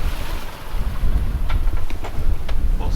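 Strong, gusty wind roars over the microphone on a sailboat off the Mull of Kintyre in Scotland, with steady rushing noise, water and hull sounds beneath, and a few faint knocks.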